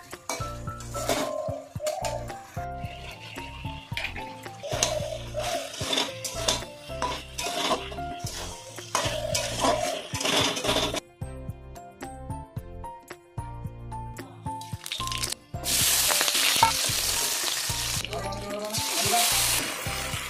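Dried fish fries in a pan in a home kitchen, a sizzle under repeated clinks and scrapes of utensils against the pan, with a loud burst of hissing frying near the end.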